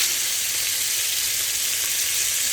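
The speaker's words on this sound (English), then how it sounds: "This skillet is really hot. You're going to add in some butter." Steady, loud, bright sizzling of butter hitting a very hot skillet, a continuous dense hiss with no talk over it.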